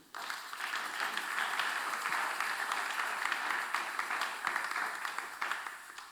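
A church congregation breaks into sustained applause, many hands clapping in a dense, even wash that rises quickly and holds steady throughout, moderately loud and filling the space.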